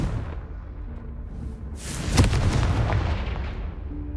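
The Confringo fire spell in Hogwarts Legacy fires off, a whooshing rush that swells into a heavy booming blast about halfway through, then rumbles and fades over a low background drone.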